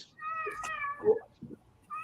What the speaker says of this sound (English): Jeff, your cats are fighting now